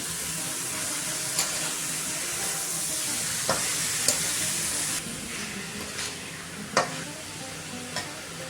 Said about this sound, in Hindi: ये मेथी साग ऐड कर देंगे। बार मिक्स कर देंगे।